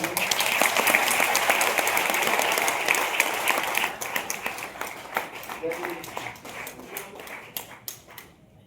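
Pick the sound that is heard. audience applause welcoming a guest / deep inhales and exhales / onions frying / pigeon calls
audience applause welcoming a guest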